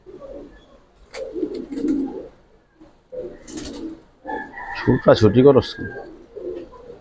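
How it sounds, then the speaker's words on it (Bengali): Army land pigeons coo in low, throaty bursts, close by, with a short chirping call mixed in, while people talk over and between the coos. "আর্মি ল্যান্ড কবুতর, খুব ভালো কবুতর।"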